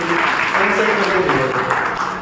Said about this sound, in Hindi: तालियां बजाइए देवांग के लिए